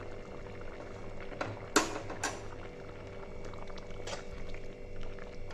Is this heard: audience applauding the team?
no